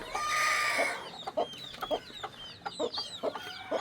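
Chickens and baby chicks at a farm being fed rice, heard as a loud squawking call up front followed by a run of close, repeated high clucks and cheeps.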